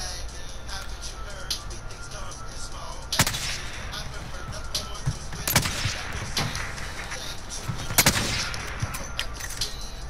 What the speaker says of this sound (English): Are you shooting at blue marker?